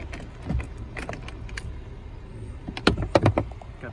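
Keys jingle inside a Jeep JK Wrangler during a dashboard radio swap: a few soft metallic shakes early on, then a louder cluster of jangling taps near the end over a quiet cabin hum.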